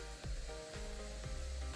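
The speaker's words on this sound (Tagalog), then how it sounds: "Medyo kumukulo-kulo na siya ng kaunti" Soft, steady bubbling of chicken soup at a low simmer, with a continuous faint hiss and occasional gentle pops.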